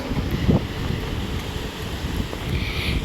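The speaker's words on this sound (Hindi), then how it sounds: "इतना ज़्यादा हवा चल रहा है, इतना ठंडा ठंडा हवा चल रहा है" A strong, cool wind blows outdoors, buffeting the microphone with a steady low rumble and roar and a few louder gusts.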